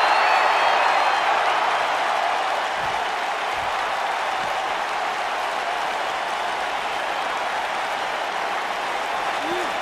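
A packed wrestling arena crowd in a video game roars and applauds, a dense, loud, continuous wash of cheering and clapping that starts strongest and then holds steady throughout.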